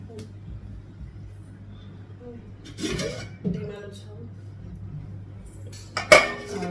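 A wok is lifted off a gas stove and a griddle set down in its place, heard as a few metallic clanks and a sharp clatter near the end over a low hum, with a person talking in between.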